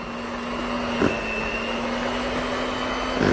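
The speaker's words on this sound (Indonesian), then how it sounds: "Oke, ini kita mixer." An electric hand mixer whirs steadily through green tea pukis batter, a continuous motor hum with faint clicks as the beaters touch the bowl, heard alone without talk.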